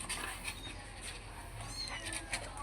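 A young cat, a kitten of a pet mother cat, gives a few faint, thin meows over a low background hum, with no clear talk.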